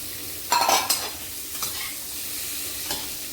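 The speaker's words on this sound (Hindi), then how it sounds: "अब ये आलू डालेंगे।" Potatoes tossed into a hot pan with whole garlic, a sharp sizzle burst followed by scraping stirs and steady frying, close and moderately quiet.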